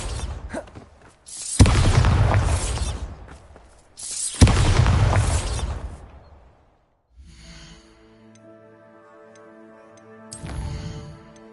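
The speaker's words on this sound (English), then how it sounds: "Bombarda! Excellent wand work." Two loud, deep spell blasts boom in succession in Hogwarts Legacy, each decaying over a couple of seconds, followed by tonal chiming effects and a third softer thump near the end.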